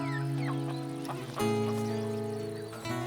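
Several chickens cluck and squawk in short, overlapping calls, fairly close, with a louder burst partway through.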